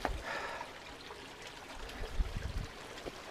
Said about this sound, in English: Water coming through down at the bottom.